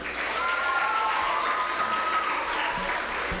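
Audience applause after a performance at a live youth talent competition, a steady roar of clapping with a faint tonal whistle or cheer riding over it, fairly loud and sustained.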